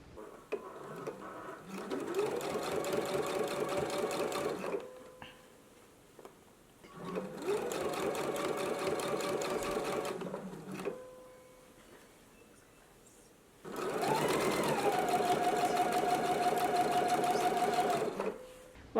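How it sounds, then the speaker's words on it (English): A sewing machine runs stitch in the ditch along a seam on a McCall's M8312 garment in three steady bursts of rapid, even whirring, separated by short pauses, close and clear. "I'm going to do a stitch in the ditch for mine"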